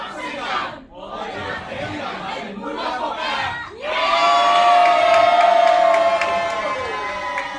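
At a Hong Kong film thank-you screening, someone speaks in Cantonese, then the cinema audience breaks into loud applause and cheering for the two directors, a sustained roar of clapping and whoops close by.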